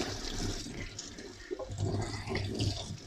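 Running water rinses a neti pot over a kitchen sink, a steady close splash and gush that swells and dips throughout with a few brief knocks, no talking.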